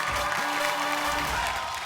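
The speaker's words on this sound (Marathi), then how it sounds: "जोरदार टाळ्या." A Marathi TV show audience gives applause, a fairly soft, even wash of clapping that holds steady across the short moment.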